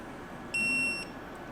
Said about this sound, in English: you can stop right when it beeps and gets to green